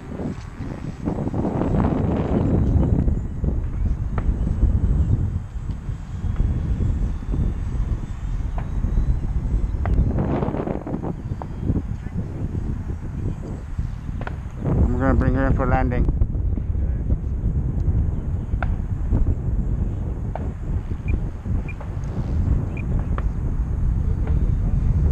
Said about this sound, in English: It's a little gusty up there right now.